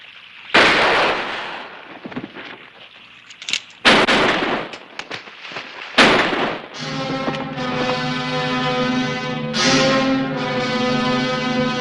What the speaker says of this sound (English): Shoot them, both of them.